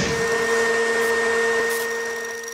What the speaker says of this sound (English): He's getting chased by a vacuum.